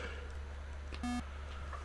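A single short electronic beep from the Atari 8-bit Solitaire computer card game, a clear buzzy tone over a low steady hum.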